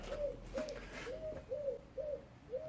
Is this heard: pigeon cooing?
yes